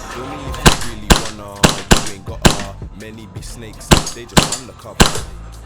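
An HPA-powered custom HiCapa airsoft pistol fires BBs on semi-auto. Sharp, loud cracks come singly and in irregular pairs, about nine shots in all, with a voice talking between them.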